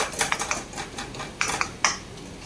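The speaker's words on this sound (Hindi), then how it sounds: "और इसे मैशर से थोड़ा मैश कर देंगे" Cooked greens and tomato mashed with a masher in a pan, light rapid metallic clicks and taps in short clusters over a soft sizzling background hiss.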